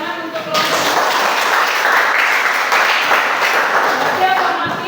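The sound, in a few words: audience applause for a presenting group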